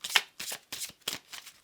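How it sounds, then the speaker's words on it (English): A deck of tarot cards being shuffled by hand, five quick riffling bursts in a steady rhythm, close and crisp, with brief pauses between them and no talk. "we're going to do a shuffle"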